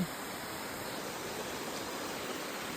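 Steady, soft rushing of a mountain stream in a Darjeeling village, heard from a short distance, unbroken and even throughout.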